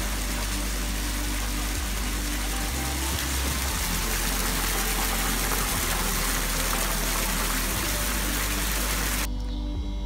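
A steady gushing of pump water jets down into an aquaponic fish tank, dense and loud, before cutting off abruptly near the end.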